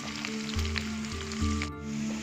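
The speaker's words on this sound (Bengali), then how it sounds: "এই যে আলুটা ভাজা ভাজা হচ্ছে" Potatoes frying in a pan, a close, continuous sizzle with a few faint clinks and stirring touches, no talk.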